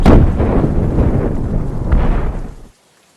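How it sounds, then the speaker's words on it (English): Loud, deep explosions boom and rumble continuously, with a couple of sharper blasts, before cutting off abruptly into silence. "when they are about to leave, loud explosions are heard."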